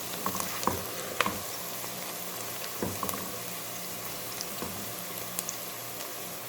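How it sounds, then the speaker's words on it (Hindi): Steady sizzling of onions frying in a hot pan until golden brown for keema matar, a dense crackle with scattered pops and occasional stirring clinks, no voices. "फ्राई कर लेते हैं।"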